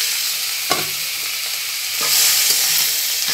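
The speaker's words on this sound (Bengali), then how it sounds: "এবার আমি শাকটা দিয়ে দিচ্ছি।" Red amaranth greens dropped into hot oil with onion and chili that had been frying until reddish, giving a steady loud sizzle with a few sharp stirring scrapes, no voices.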